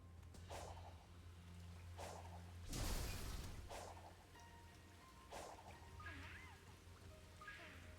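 Rain pattering steadily in the Sonic Frontiers video game, a soft continuous hiss with a louder swishing burst partway through, over a low game hum and faint musical tones.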